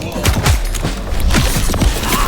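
Rapid gunfire bursts from the video game Vampire the Masquerade Bloodlines 2, a string of punchy shots and thumps layered over busy game sound effects, loud and close.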